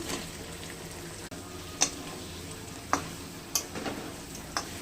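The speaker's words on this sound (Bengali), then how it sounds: "মশলা কষানো হয়ে গেছে, ভেজে রাখা পটলগুলো দিয়ে দিলাম।" Pointed gourd pieces, fried earlier, being stirred into a cooked spice paste in a pan, with a low steady sizzle and a few sharp clicks of a spoon against the pan.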